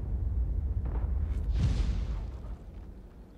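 A tank cannon firing in World of Tanks from a T92: one deep, heavy boom swells out of low rumble, then rolls off and fades over a couple of seconds.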